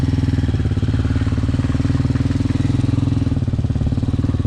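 A Hawk 250cc motorcycle engine rumbles steadily and close up on a cold-weather ride, a low, even, pulsing drone with no gaps and no one talking.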